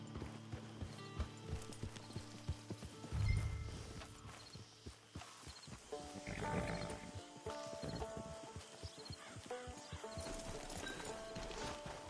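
Horse hooves clip-clop steadily in Red Dead Redemption 2, a walking rhythm of close, crisp hoofbeats with an occasional snort or whinny over ambient game music and background sound.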